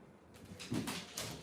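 Doors in the horror video game FNAF: The Week Before sliding shut in quick succession, a few soft whooshing, scraping closes heard up close with no talking.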